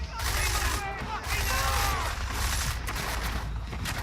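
Enemy gunfire in the video game Deus Ex: Mankind Divided, a dense, sustained burst of shooting and mechanical clatter that fills the whole stretch at close range.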